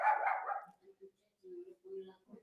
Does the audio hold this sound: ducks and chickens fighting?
no